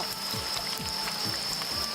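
Oil sizzles and crackles steadily as eel fries in a pan, a dense bubbling hiss with scattered pops, fairly quiet and without voices.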